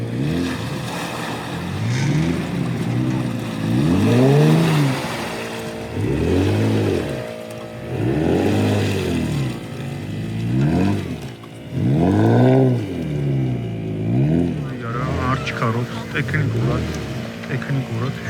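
An off-road car at a Trophy Trial race in Racha revs its engine repeatedly. The engine note rises and falls in loud, rhythmic waves, with people talking over it.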